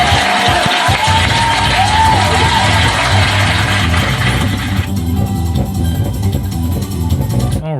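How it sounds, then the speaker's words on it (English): A crowd cheers, whoops and yells in a round of applause after a host's introduction at the African Heritage House, loud and sustained, with background music running under it throughout. "Round of applause"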